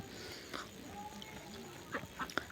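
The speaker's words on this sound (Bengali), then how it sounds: "এই খাকি ক্যাম্পেল এবং ইন্ডিয়ান রানার সবচেয়ে ডিমের জন্য বিখ্যাত" A few brief, fairly close quacks from Khaki Campbell and Indian Runner ducks, an egg-laying breed pair, near the end over a faint, steady farmyard background.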